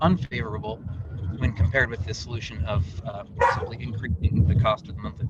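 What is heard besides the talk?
dog barking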